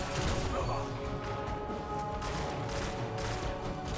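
A Red Death pulse rifle fires in Destiny: The Taken King during a Crucible Iron Banner match, a dense, steady stream of gunfire and game effects filling the whole stretch without a break.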